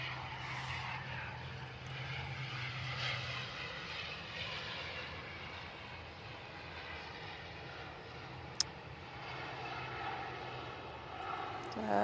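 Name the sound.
Virgin Atlantic airliner landing, engine noise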